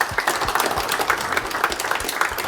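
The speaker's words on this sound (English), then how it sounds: "Give them an applause." A crowd applauds with a dense, steady patter of many hands clapping, sustained throughout without pause.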